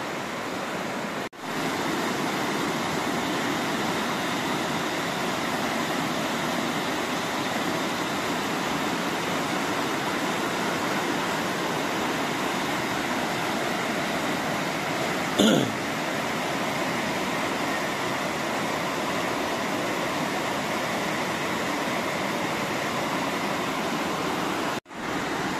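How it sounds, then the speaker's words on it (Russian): A waterfall on the Koksu river roars in a steady, dense broadband rush that stays unchanged and fairly loud throughout, with only a brief bump partway through. "Прикольный водопад."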